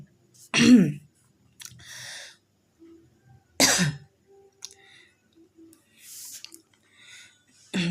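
Person coughing indoors: several sharp, harsh coughs and throat clearing, two loud bursts separated by quieter breaths, sniffs and small mouth sounds, close to the microphone.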